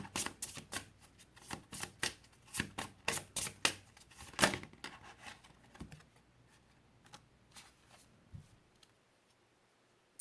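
Tarot cards are shuffled in quick, crisp riffling bursts, loud and close, then slow to a few scattered taps as cards are drawn and set down, ending in near silence.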